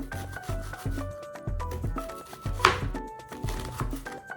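Knife finely dicing onion into tiny cubes on a board, a steady series of close, crisp chopping taps with soft rubbing between strokes and no talk.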